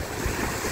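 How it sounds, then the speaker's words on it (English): Waves breaking on the shore of Lake Huron, a loud, continuous rush of surf mixed with wind buffeting the microphone, with no talk. "We are at Huron Lake, and it is just awesome waves breaking."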